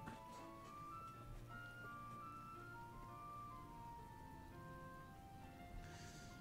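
Steady rain falls in the video game Final Fantasy XV, a soft continuous patter sitting under a layer of game music tones, with no talking.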